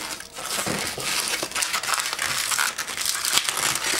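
A latex 260 balloon is twisted into small pinch twists while shaping a Tommy gun balloon model, giving a steady close-up squeaky, crinkly rubbing that continues with small surges throughout.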